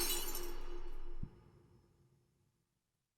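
A glass-breaking sample in an FL Studio remix of a track: one bright shattering crash with a sharp impact, then tinkling debris and a fading ring before near silence.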